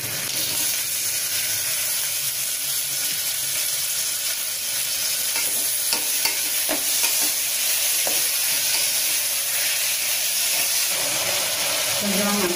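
Two chopped medium tomatoes hit a hot pan for a potato and butter bean kurma, producing a loud, continuous sizzle and hiss with occasional stirring scrapes.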